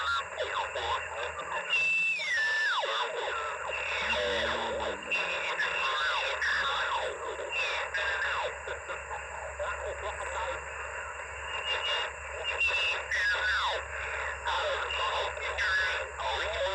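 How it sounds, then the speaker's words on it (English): Noisy shortwave ham radio band on a QRP portable kit under solar controller testing, with hiss, crackling bursts, whistling heterodyne tones and faint distorted voices drifting across the dial, continuous throughout. "Lots of static crashes."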